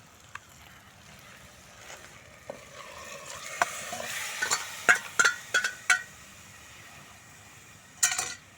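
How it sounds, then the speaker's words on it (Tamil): Onions and tomatoes sautéing in a pan with greens, heard as a low, steady sizzle with intermittent stirring scrapes and clinks that grow busier midway, then a final clatter. "இன்னும் கொஞ்சம் நேரம் நல்லா வெங்காயம் சுருங்க வதங்கட்டும்"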